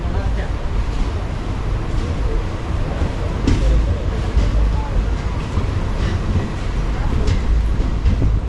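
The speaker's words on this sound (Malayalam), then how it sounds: "സാധാരണ ഈ കുമ്പളം സ്റ്റേഷനിൽ ഒത്തിരി പിടിച്ചിരുന്ന ട്രെയിന്, പക്ഷെ ഇന്ന് പെട്ടെന്ന് വിട്ടു." Kayamkulam–Ernakulam unreserved express pulling out of Kumbalam station gives a continuous rumble of wheels and carriages with faint rhythmic clatter, heard from onboard, steady and moderately loud with voices in the background.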